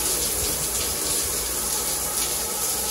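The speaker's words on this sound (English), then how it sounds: "They say that they turn that shower on, let the hot water run for a little bit" Hot water pours steadily from a truck stop shower, a loud, continuous close-up hiss and splash of running water with no pauses.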